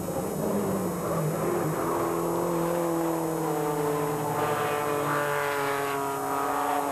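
Porsche race cars, a Carrera and a turbocharged 944, racing in the 1991 Porsche Club GB Championship. Loud, continuous engine notes rise and fall in pitch as the cars accelerate and shift.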